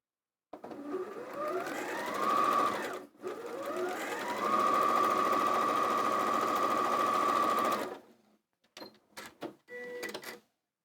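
A sewing machine stitches pieces of a quilt block together in two long continuous runs, the motor whirring up to speed and holding steady, followed by a few short bursts of stitching near the end.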